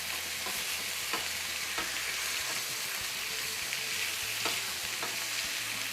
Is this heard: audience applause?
no